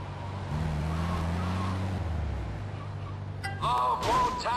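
A car engine drones steadily during a race in GTA Liberty City Stories, its pitch sliding down before fading, followed by brief sharper game sounds and clatter at the end.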